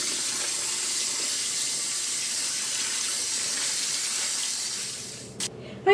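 Tap water pours steadily over rice as it is rinsed for an Instant Pot chicken and rice dish, a constant hiss that cuts off near the end with a couple of short knocks.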